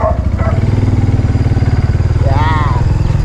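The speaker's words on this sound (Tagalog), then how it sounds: "medyo mainit-init ang makina ng ating motor" A warm motorcycle engine idles close up with a steady, throbbing chug, joined by a brief high whine or voice-like sweep partway through.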